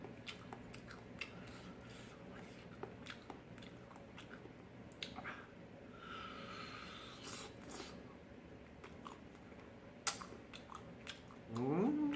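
Close, quiet chewing and biting on grilled charcoal meat skewers and meat and kimchi dumplings from street food, with soft wet smacks and crunches repeating through the clip, and a short rising voice-like sound near the end.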